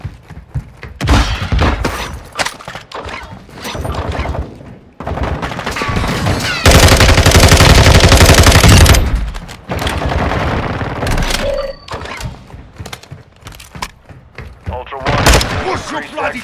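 Video game gunfire crackles in bursts and volleys, with thumps and booms and one sustained heavy barrage in the middle, while players talk over much of it.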